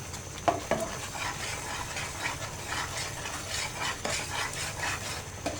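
Mango pulp stirred with milk powder and dry coconut in a pan over low heat, a spoon scraping and clinking rhythmically against the metal beneath a soft, steady sizzle.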